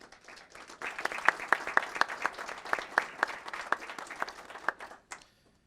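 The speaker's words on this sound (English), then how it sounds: "if we can give them a round of applause as well" An audience at a city council meeting gives a round of applause, brisk dense clapping from a modest crowd that swells, holds for several seconds and then tapers off quickly into silence.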